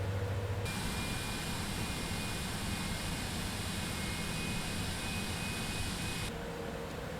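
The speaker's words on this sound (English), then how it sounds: "we'll watch as the engines spool up" Airliner jet engines spool up in Microsoft Flight Simulator 2024, a steady, rising whine over a broad roar that holds at a constant level, with no voices.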